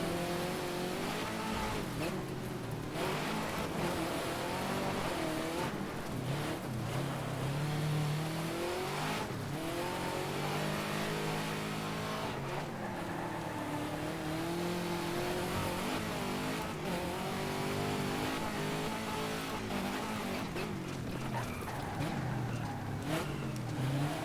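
Rally car engine in DiRT 2, steadily revving and dropping through downshifts over a long dirt-stage run, loud and continuous with shifting pitch, occasional tire noise and no talk.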